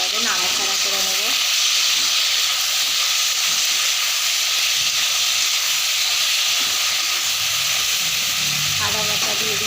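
Ginger paste sizzling in a hot pan of oil while being stirred, a steady loud hiss and crackle throughout with occasional scraping and a brief voice in the background.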